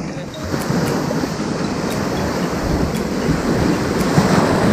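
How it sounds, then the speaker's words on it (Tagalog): Steady roar of ocean waves and surf at a beach in Taiwan with wind buffeting the microphone, no voices. "Malaki ng mga alon, no?"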